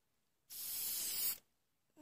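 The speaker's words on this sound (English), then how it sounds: "It's actually giving the top another spray as well." Spray varnish is applied to a painting from an aerosol can: one close, loud hissing burst lasts about a second, with quiet before and after.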